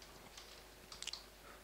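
Typing on a computer keyboard, a few faint, quick key clicks clustered together in a quiet room.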